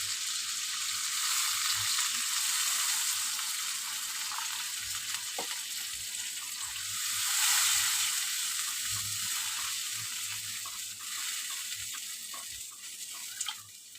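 Water poured into a hot pan for rohu fish curry, giving a steady sizzle and bubbling hiss that swells briefly midway, with faint clinks throughout and no talking.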